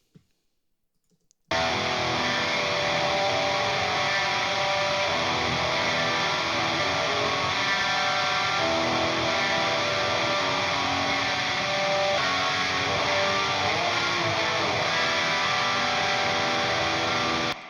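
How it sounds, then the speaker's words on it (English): Unprocessed rhythm electric guitars, dry with no added effects, play a dense, continuous distorted part at steady loudness after a brief silent start, with no talking. "let's just listen to the rhythm guitars with no processing"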